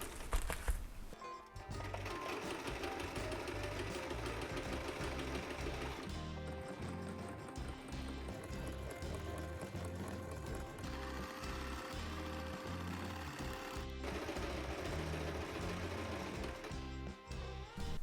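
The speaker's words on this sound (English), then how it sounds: "I'm going to be sewing some bias tape around them to finish them, and sewing them to their panel." A sewing machine stitches bias tape onto the panel of a beach bag with a plastic lining. It runs nearby with a steady, rapid whir and a few brief stops and restarts.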